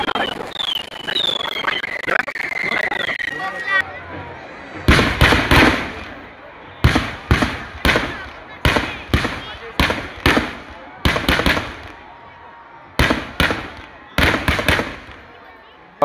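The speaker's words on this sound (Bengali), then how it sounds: "এবার আপনারা আমাদের গ্রামের আতশবাজি দেখে নিন এবং আনন্দ উপভোগ করুন" Village fireworks set off for Diwali: a rapid series of loud, sharp bangs in clusters, each with a short crackling tail, following a stretch of crowd noise and chatter.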